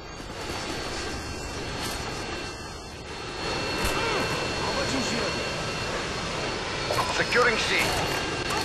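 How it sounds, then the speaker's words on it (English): Harrier jets from the video game Modern Warfare 2, a loud continuous jet engine roar that swells and carries on under game sounds. "Friendly Harriers inbound."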